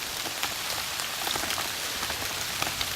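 Steady heavy rain pours down on a river trip, a dense continuous hiss with scattered drops pattering on a nearby surface.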